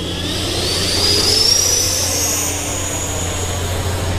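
A Freewing J-10 90mm electric ducted-fan RC jet takes off, its steady high-pitched turbine-like whine rising in pitch and swelling then easing over a constant low hum, heard close and continuous without talk.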